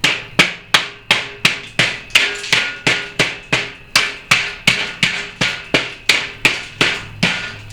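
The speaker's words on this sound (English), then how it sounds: "using a hammer and a chisel, go ahead and knock it out" Steady, evenly spaced metallic hammer blows on a chisel, about two per second, sharp and close with a ringing edge, no voices, knocking out a piece of wood after circular saw cuts.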